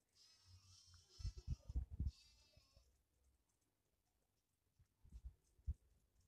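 Several soft, short sheep bleats from the video game Mini World: Block Art come in two bursts with quiet gaps between, faint and slightly synthetic-sounding.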